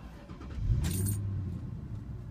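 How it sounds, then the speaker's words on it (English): A Ford Mustang engine cranks and catches, settling into a low steady idle, with a brief jingle of keys near the start. "We're going to start it up."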